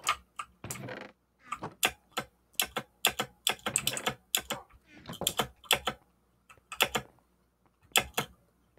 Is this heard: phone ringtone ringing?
no